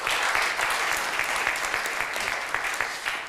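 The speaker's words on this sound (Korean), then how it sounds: "다시 한번 우리 패널 분들한테 뜨거운 박수 부탁드리겠습니다" Warm, steady applause from a forum audience for the panelists at the close of a discussion, moderately quiet and without speech.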